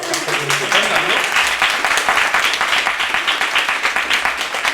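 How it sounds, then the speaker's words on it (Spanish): An audience at a Spanish science-fiction convention panel on retelling gives a steady round of applause, dense hand clapping that starts after a brief voice and stays loud throughout. "Habrá que darles un aplauso."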